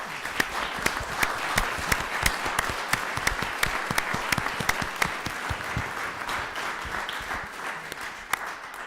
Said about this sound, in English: At this time, I'd like a round of applause for our firefighters.